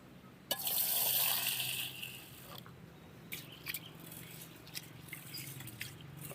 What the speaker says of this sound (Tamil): தண்ணி ஊற்றி சுத்தம் பண்ணிக்கலாம்